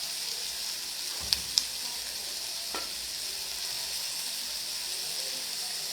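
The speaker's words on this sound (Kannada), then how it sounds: "ಒಂಚೂರು ಸಾಲ್ಟ್ ಹಾಕೋಣ ವೆಜಿಟೇಬಲ್ಸ್ಗೆ, ಚೆನ್ನಾಗಿ ಫ್ರೈ ಆಗುತ್ತೆ." Vegetables frying in a pan after salt is added give a steady, fairly soft sizzling hiss, broken by a couple of sharp clinks from a utensil near the start.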